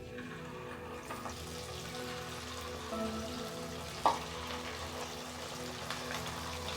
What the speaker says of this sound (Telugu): ఒక కడాయిలకి చాలా వేడి మీద ఉంది ఇప్పుడు స్టవ్ని మీడియం ఫ్లేమ్లోకి చేసుకొని పీసుల్ని ఒక్కొక్కటిగా వేసుకుందాం